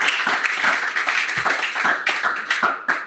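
A church congregation applauds at a worship service, a dense, lively clapping that stays loud throughout with small surges and brief dips, with no talk over it.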